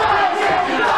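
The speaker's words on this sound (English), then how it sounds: "Half of the crowd is urging Tenshi to fight, and the other half is urging him, please stop fighting" A wrestling match crowd shouts loudly and continuously, a dense roar of many voices cheering and yelling close around.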